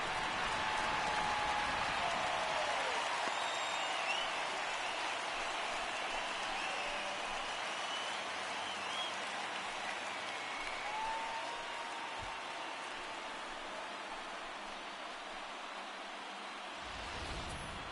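In MLB The Show 19, a baseball stadium crowd roars after a home run. A broad, steady wash of cheering and noise is held at an even level, faint and distant, with occasional whistles.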